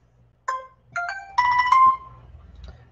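A mobile phone ringtone chimes alone in a quiet room, a short melodic phrase of bright electronic tones that rises and grows louder over a couple of seconds before fading.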